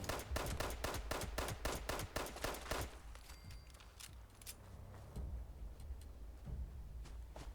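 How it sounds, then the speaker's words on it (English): A rapid burst of gunfire in the game Fallout 76 fires a dozen or so sharp, evenly spaced shots in quick succession. The shots cut off abruptly, then a few softer scattered reports follow against quieter game ambience. "Ignore those first 2 shots."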